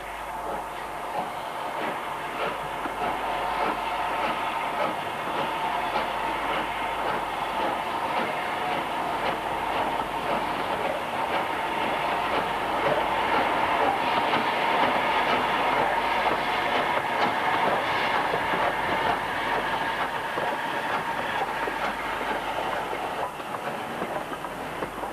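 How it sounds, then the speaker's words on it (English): A Caprotti Class 5 steam locomotive hauls a Saturdays-only express out of a station platform, producing a steady, continuous rolling roar with clickety-clack wheel rhythm that builds slightly in loudness and carries on with no voices. "a Caprotti Class 5, number 44756, departs Platform 8 on the 12:33 Saturdays Only Express from Rochdale to Southport"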